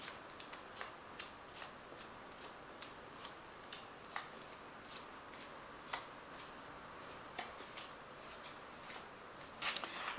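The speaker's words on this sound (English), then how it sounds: "I've shuffled the deck, and I'm just going to draw some cards from it." Tarot card deck being shuffled by hand, giving a quiet run of soft, brisk card riffles and taps in a steady rhythm, close but faint, with no talking.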